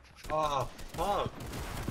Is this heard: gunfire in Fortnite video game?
yes